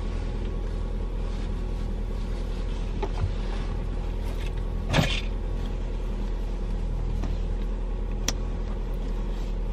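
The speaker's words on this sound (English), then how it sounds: "I'm letting my car warm up in the meantime" A car engine idles while warming up, a steady low hum filling the space with a few faint clicks and one brief rustle, no voices.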